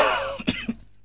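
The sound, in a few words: cough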